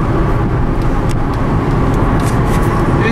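Loud, droning hum from a noisy three-cylinder car engine while driving, heard from inside the car, with a steady low rumble throughout and faint road noise, no talk over it.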